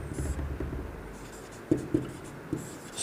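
Pen writing on paper while a maths problem is worked out, a few short scratchy strokes with brief taps, close and fairly quiet, with no talk over them.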